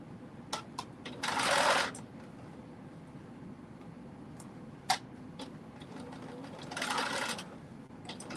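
Domestic sewing machine stitching down a garment piece, two short bursts of rapid needle chatter separated by quiet pauses with faint ticks and a single click, close and moderately loud.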